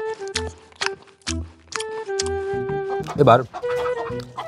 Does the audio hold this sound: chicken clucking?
yes